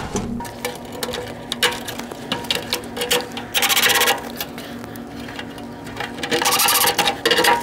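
Screws being driven into a compactor control panel: scraping and grinding bursts with two longer whirring stretches, close by and fairly loud.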